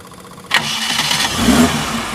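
A 1980 Suzuki LJ80 Jimny 4x4 engine catches after a brief starter crank, firing up sharply and settling into a smooth, close idle with a slight rev.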